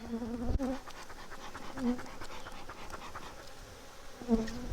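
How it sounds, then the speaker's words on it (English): Honey bees buzz continuously around an open hive, a soft droning hum with individual insects passing close now and then. "A lot of bees in this hive."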